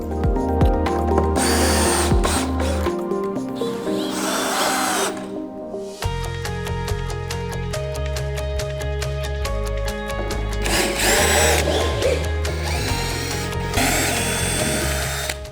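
A power drill bores a drain hole into the track of an Equinox mini sauna, whining loudly and steadily in two long runs with a short pause between them.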